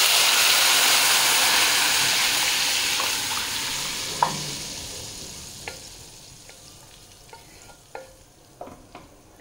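Mutton dalcha lentils are poured slowly into hot oil, setting off a loud, bright sizzle that gradually dies down, followed by several sharp clinks and taps of stirring near the end.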